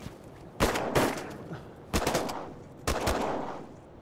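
Shotguns fired by hunters at a flock of incoming birds in the Arctic tundra of Nunavut, with four sharp, loud blasts spaced irregularly, some in quick pairs, echoing briefly against quiet open air.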